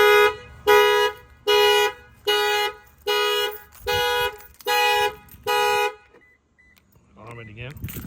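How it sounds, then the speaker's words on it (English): A 2022 Toyota Tundra factory alarm, set off by an add-on shock sensor, blares in eight evenly spaced loud honks, then stops; a brief voice follows at the end. "Now if somebody tries to bust out the keyhole, it's gonna set off the alarm."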